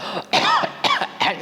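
A storyteller's voice imitates coughing: three harsh, raspy throat bursts in quick succession, close and loud, each a short rough hack with a brief pause between.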